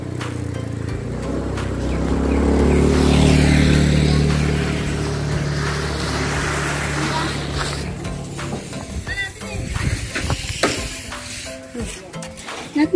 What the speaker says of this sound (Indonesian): Motor ya, motor.